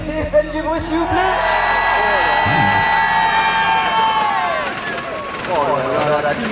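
Crowd cheering and whooping at a dragster competition in the Netherlands, a sustained roar of voices with some clapping, and speech mixed in.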